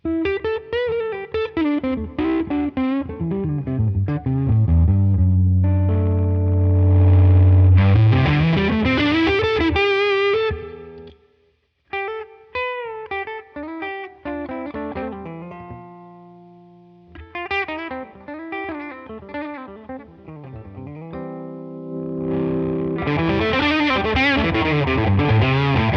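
An electric guitar runs through a pedalboard with effects, playing strummed and picked phrases while a volume pedal swells and cuts the level, dropping almost to silence in the middle before rising again.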